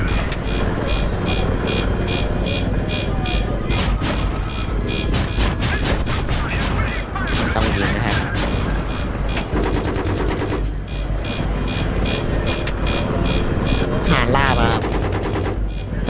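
Sustained automatic gunfire in the co-op campaign of the video game Battlefield 3: loud, near bursts of rapid shots and rattling fusillades that run almost continuously through the clip, with occasional vehicle rumble and faint voices underneath.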